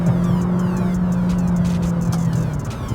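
A McLaren 570GT supercar with a 7-speed paddle-shift gearbox drones steadily, its engine note holding a loud, constant pitch throughout with no gear changes or voices, as from inside the cabin.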